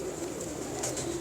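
Pigeons coo in a continuous low burble close by, with a faint higher tone hovering above.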